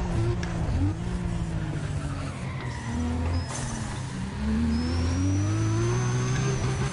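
A Ford car's engine revs and pulls hard while driving in the racing video game Need for Speed ProStreet, its pitch rising and falling through gear changes. Loud and continuous, with a brief tire skid mixed into the game sound.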